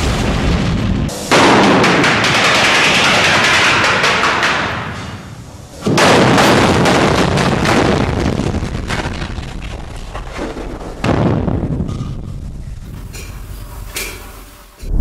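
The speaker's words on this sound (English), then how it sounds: "those sausage-looking explosives fit snugly into the holes and, with precise placement, blast the rock into shape." Explosive charges packed into drill holes blast rock for an undersea tunnel, making loud, roaring, rumbling booms that come in several long waves and fill the whole stretch.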